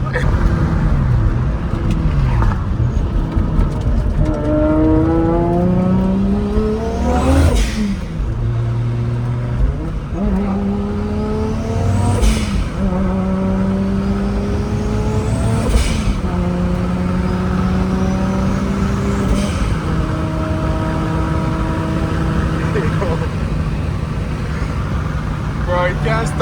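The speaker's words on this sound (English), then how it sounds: "The engine is still breaking in, but you still feel the power." A 1600 whp Toyota Supra with a still-breaking-in engine accelerates hard, heard from inside the car: the engine pitch climbs in repeated rising sweeps, each broken by a sharp gear change. Voices talk intermittently under the loud engine.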